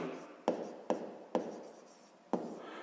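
Pen or chalk taps and scratches while a maths exercise is written out, five sharp strokes spaced unevenly, each followed by a soft rubbing trail, close and quiet.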